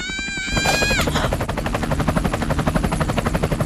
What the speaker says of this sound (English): What's a helicopter doing here?